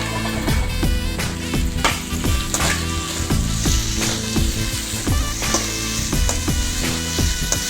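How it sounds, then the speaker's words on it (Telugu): Ridge gourd peel fries in a pan over a low gas flame, giving a loud, steady sizzle with repeated clinks and scrapes of stirring throughout. "కొంచెం పచ్చి స్మెల్ పోయేదాకా వేయించుకోవాలండి"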